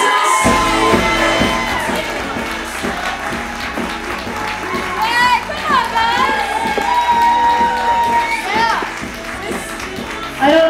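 A live audience at a stand-up comedy show cheers, whoops and applauds a comedian taking the stage, a dense, steady wave of clapping and shouts that swells toward the end while a voice talks over it.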